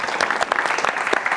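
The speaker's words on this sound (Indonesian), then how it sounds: "Boleh tepuk tangan?" Brief burst of audience applause at a live talk show taping, with dense clapping from a crowd lasting just over a second.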